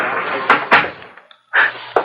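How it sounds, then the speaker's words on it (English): A door closes in a radio drama set in a police captain's office, giving a couple of sharp thuds and a latch-like knock against a steady background hiss, with no voices over it. "Close the door."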